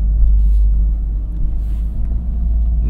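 A Toyota GR Corolla's engine pulls around 4,000 RPM, heard from inside as a heavy, steady low rumble with a muffled drone throughout.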